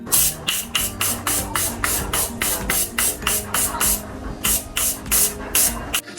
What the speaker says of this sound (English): I'll be going into my Morph setting spray